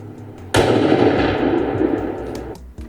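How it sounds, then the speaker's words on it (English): A single .308 Winchester rifle shot fired while deer hunting in late season: a sudden loud blast that rolls on for about two seconds of echo before fading. "So that second doe I shot, I'm going to play it in slow-mo"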